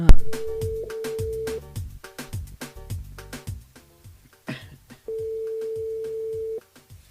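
A telephone line rings out while a radio host calls a listener, with repeated steady tones over background music and a gap in the middle.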